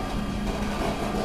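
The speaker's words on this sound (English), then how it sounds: "the noise you hear behind you right now is the traffic on the Bronx River Parkway" Steady, dense traffic roar from the Bronx River Parkway in a city setting, a constant broadband wash with no distinct passes, moderately loud and continuous throughout.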